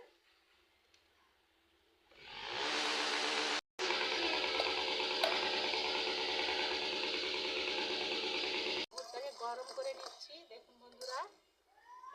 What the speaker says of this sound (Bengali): তার জল দিয়ে দিচ্ছি কড়াইতে